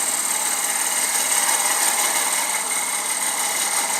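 A skew chisel cuts the end grain of a wooden loom pulley spinning on a lathe, giving a steady, loud whirring hum with a dense cutting hiss and no pauses.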